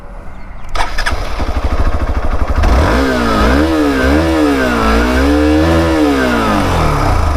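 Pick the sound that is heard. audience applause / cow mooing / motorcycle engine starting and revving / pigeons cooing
motorcycle engine starting and revving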